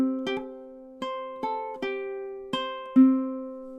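A ukulele plays a sparse fingerstyle melody, single plucked notes and small double stops ringing out one after another at an unhurried pace, close and quiet with no voices.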